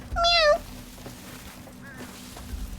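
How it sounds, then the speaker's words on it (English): A cat in the video game Crimson Desert lets out one clear, high, drawn-out meow up front, then a fainter short mew follows over quiet game ambience. "Meow!"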